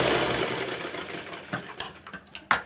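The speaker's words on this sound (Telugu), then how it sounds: "ఇక్కడ ఒక స్టిచ్ చేసుకోవాలి" A sewing machine stitching blouse cloth: a steady mechanical whir that gives way to a few quick clicking taps, close and moderately loud, with no talking.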